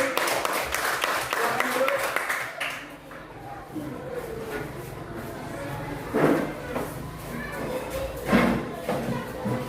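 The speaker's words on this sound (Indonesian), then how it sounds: "Sekali lagi tepuk tangan buat kelompok melati." Classroom applause for a student group, starting as a dense burst of clapping from many hands and then thinning into scattered claps, shuffling and classroom bustle, with children's voices talking through it.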